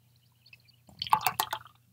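Old Nation hazy beer is poured into a glass: a brief, quiet burst of liquid splashing and dripping after a near-silent start, with no voices.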